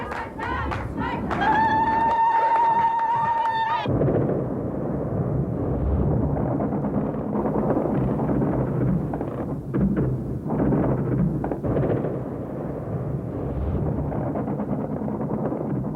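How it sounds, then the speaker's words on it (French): Archive footage of the bombing of Iraq carries a dense, continuous roar of explosions and booming fire, with a sustained siren-like tone at the start, loud and rumbling throughout. "Sous l'égide de l'ONU, un déluge de feu s'abat sur l'Irak."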